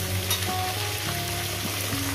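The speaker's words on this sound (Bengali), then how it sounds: "ডাঁটাটাকে ভেজে নিয়েছি।" Vegetable stalks frying in a pan as a dense, even sizzle, close and continuous with a faint low hum beneath, heard alone without voices.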